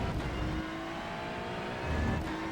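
A Ferrari 296 GT3 engine at the Red Bull Ring in iRacing drones steadily at high revs, heard up close from the cockpit, swelling slightly near the end.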